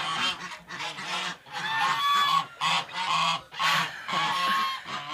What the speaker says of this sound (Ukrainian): Запустила вже сюди свою качечку до цих, що купувала, і нехай привикають.